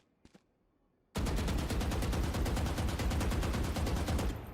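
An automatic rifle fires in Valorant, a rapid, steady burst of evenly spaced shots lasting over three seconds, close and loud, after a couple of faint clicks.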